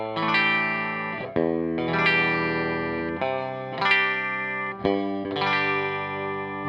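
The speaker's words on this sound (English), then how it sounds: "you can hear that real thin, out of phase sound." Fender Kurt Cobain Jag-Stang electric guitar with pickups set out of phase, giving a thin, nasal tone; a series of strummed chords ring out with effects, each struck and left to sustain, loud and close.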